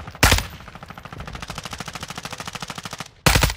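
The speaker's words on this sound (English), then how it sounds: "I missed every single shot on him" Rapid automatic gunfire in a shooter video game, a steady burst of evenly spaced shots lasting about three seconds and played loud and close, with sharper louder blasts just before and after it and no talk over it.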